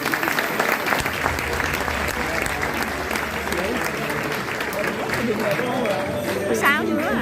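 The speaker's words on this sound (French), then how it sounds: "Vous pouvez encore une fois les applaudir." A graduation audience applauds with a loud, continuous crowd clapping, and voices and chatter mingle in toward the end as the clapping carries on.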